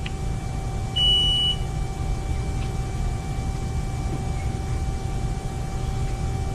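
Alarm on a Haas CNC tool room mill just after power-on: a single short electronic beep near the start over a steady machine hum and fan noise, with no talking.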